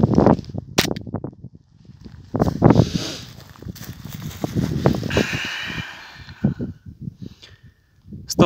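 Airsoft pistol shots striking a PETG plastic test disc printed at 10% infill: a series of sharp, snappy cracks and impacts, irregularly spaced and fairly close, with faint rustling and handling noise in between.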